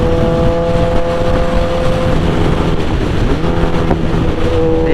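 A 2008 Suzuki GSX-R 1000 sportbike accelerates in high gear, its engine holding a loud, steady drone with only a slow rise in pitch, mixed with wind rush and no talking.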